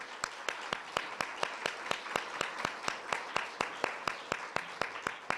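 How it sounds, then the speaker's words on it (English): Rhythmic clapping at an event's close, about four even claps per second, faint and steady, sounds like a small group clapping in unison rather than a full crowd. "extend a big round of applause and thanks"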